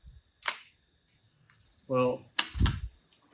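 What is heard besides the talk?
film camera shutter firing, Minolta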